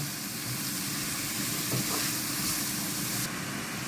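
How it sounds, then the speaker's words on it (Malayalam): Chopped onions and small shallots sautéing in a pan for a green tomato and dried prawn thoran, a dense continuous sizzle with a faint scrape or two partway through. "അതിട്ട് നന്നായിട്ട് വഴറ്റി കൊടുക്കാം"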